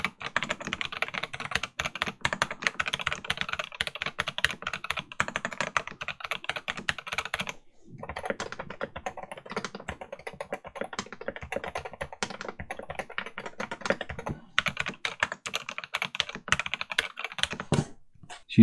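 Typing on a modded Wooting 60HE keyboard fitted with GMK Pro keycaps and Alpaca switches: dense, continuous keystroke clatter with rapid irregular taps, close and clear, with a brief pause near the middle and no talking.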